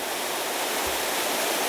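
Small waterfalls on a mountain trout stream in flood, a steady broad rushing roar of water, close and constant with no voices.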